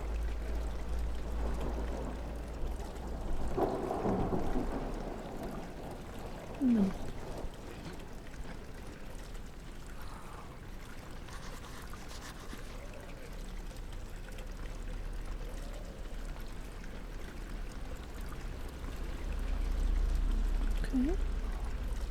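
Rain pours steadily into a dark room in Amnesia: The Dark Descent, a faint continuous hiss and trickle under a quiet voice, with a couple of brief higher sounds cutting through.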